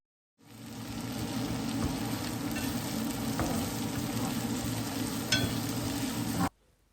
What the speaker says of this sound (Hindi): मैं प्याज को तब तक भूनूंगी जब तक कि ये हल्का सा ब्राउन ना हो जाए